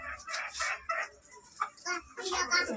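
Farm chickens cluck and call at feeding time, close and irregular short bursts, with a person's voice mixed among them.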